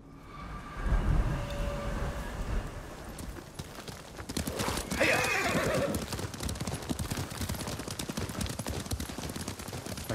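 Horse hooves clip-clop steadily through a ride in the samurai game Ghost of Tsushima, mixed with a whinny and a dense, busy game soundscape, loud and close throughout.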